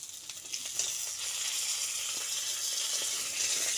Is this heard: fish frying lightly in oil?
yes